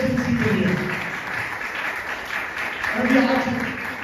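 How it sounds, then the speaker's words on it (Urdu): A church congregation applauds for Jesus Christ, a steady wash of clapping that carries on beneath a preacher's voice speaking over it. "دنیا کے سارے معبود میں اس کو تالیاں بجائیں یسوع مسیح کے لیے."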